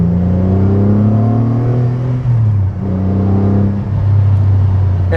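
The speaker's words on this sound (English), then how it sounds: "Blipping this down through the gears is genuinely perfection." A car engine is blipped on each downshift through the gears, the loud, close, steady drone of the engine dipping and jumping in pitch with every change across several seconds, with no talking over it.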